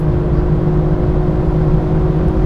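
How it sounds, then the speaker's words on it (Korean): A 2024 Lexus LC 500 facelift pulls hard at high speed, giving a loud, steady engine drone with road rumble heard from the cabin and no talk. "다시 가속해 볼까요?"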